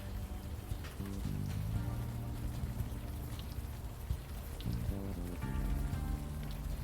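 Continuous rain pours in the Unavowed supernatural crime game, a dense even hiss of drops on surfaces that holds for several seconds, mixed with soft low music and no speech.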